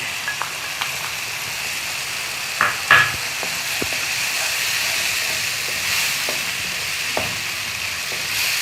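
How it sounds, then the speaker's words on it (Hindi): Masala with added tomatoes frying in a pan while being stirred, a continuous loud sizzle and hiss with occasional scrapes and light knocks of the spoon, close and steady throughout. "मसाला अच्छी तरह आपने इसको भूनना है। अब इसमें आप ऐड कर दें टमाटर।"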